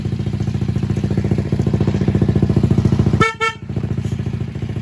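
A skeleton motorcycle engine idles steadily and loudly, then a brief double honk of its newly fitted loud horns cuts through near the end before the engine rumble resumes.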